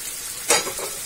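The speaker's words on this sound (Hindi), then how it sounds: "अब इस मसाले में हम चिकन को डाल देंगे" Chicken drops into hot masala in a pan with a sudden loud sizzle that swells for a moment over a steady background hiss, then settles back to a softer fry.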